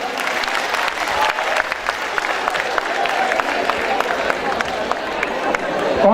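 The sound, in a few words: audience applauding at award ceremony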